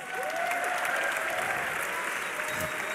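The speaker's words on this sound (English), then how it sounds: "Give yourselves a round of applause." An esports crowd at a DreamHack League of Legends semi-final applauds steadily throughout, a dense wash of clapping and cheering filling the hall, with an announcer's voice faintly audible over it.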